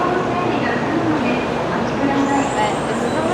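A Japanese bullet train rumbles steadily from inside the carriage, with a continuous broadband roar and faint background talk.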